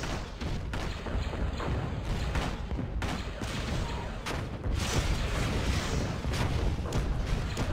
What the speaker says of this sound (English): Two beams firing at once.